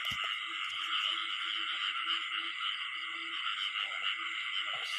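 A dense chorus of frogs croaks over a flooded rice field after the first rain, a steady, loud wall of calls with occasional lower croaks in front.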